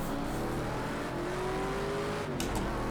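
AI race car in Project Cars 2 passing closely, its engine tone climbing steadily under the player car's loud continuous engine drone, with brief tire noise near the end.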